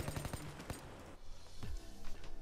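Rapid gunfire in the heist shooter PayDay 2, a burst of close, sharp shots in the first second followed by scattered further shots and rumbling game noise.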